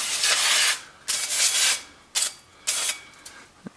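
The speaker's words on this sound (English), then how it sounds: "we're going to put a little brake cleaner on it" Brake cleaner sprayed onto the rear brake of a 2002 NB Mazda Miata, several close, loud bursts of hissing aerosol spray, the longest about a second, separated by short pauses.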